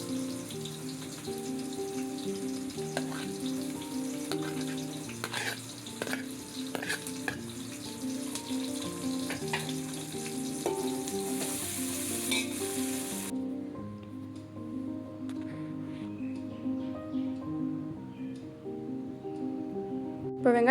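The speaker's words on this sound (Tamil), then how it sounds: "எண்ணெய் சூடான உடனே கட் பண்ணி வச்சுருக்க வெங்காயம், பச்சை மிளகாய் இது ரெண்டுமே சேர்த்து நல்லா வதக்கிக்கணும்." Sliced onion and two green chilies sauté in hot oil for mutton head curry, a continuous close sizzle with stirring scrapes under background music, running about twenty seconds.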